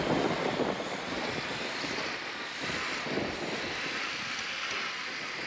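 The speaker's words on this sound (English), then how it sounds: "drone is up." A surveillance drone flies in the Ghost Recon Wildlands game, giving a steady, airy buzzing hum that holds continuously over wind-like background noise, with no voices.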